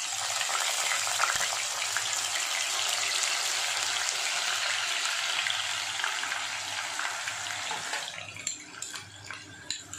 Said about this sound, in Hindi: ये देखिए, मैं इसको प्याज डाल रही हूँ।